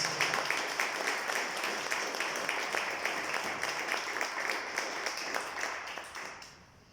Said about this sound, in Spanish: Eran para apoyar tu comentario los aplausos,